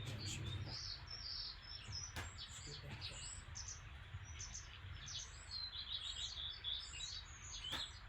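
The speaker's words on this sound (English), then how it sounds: "The orchard is home to a multitude of species of birds." Birds in an orchard chirping and singing in quick, bright bursts, several calls overlapping at a modest distance over faint low background noise.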